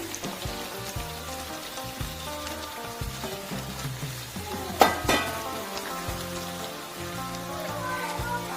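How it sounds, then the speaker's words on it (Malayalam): Chopped onions added to a hot pan for pepper chicken, a steady crackling sizzle throughout, with a brief louder clatter midway. "ഇനി നമുക്ക് അരിഞ്ഞു വെച്ച ഉള്ളിയും കൂടി ചേർത്ത് കൊടുക്കുകയാണ്."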